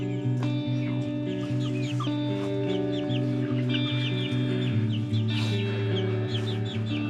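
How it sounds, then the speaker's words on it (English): Young month-old chicks and hens clucking in a farm chicken coop, a dense, continuous chorus of overlapping clucks and chirps from many birds close by, with no talking. "second chicken coop, I have my oldest chicks"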